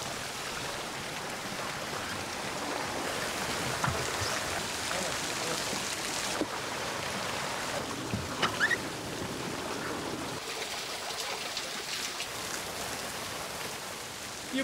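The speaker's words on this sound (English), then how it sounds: "it's rushing into my channel here, out of the holes, and it's filling my bucket" Water pours out of holes into a channel and fills a bucket on a reconstructed Roman water-lifting wheel used for mine drainage. It makes a continuous, close, broadband rushing and splashing with a few brief knocks.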